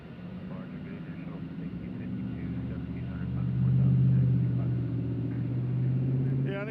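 A WestJet airliner at Nashville International Airport rumbles in a steady low drone, swelling louder midway as it passes, then holding at a broad roar.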